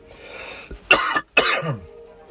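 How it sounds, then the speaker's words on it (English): A person coughs a few times in quick succession, close and clear, with short harsh bursts separated by a brief pause. "I am coughing up a storm here"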